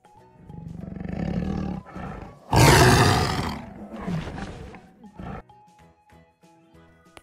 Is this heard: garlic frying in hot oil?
no